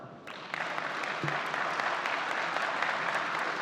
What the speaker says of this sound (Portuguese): Um aplauso, por favor.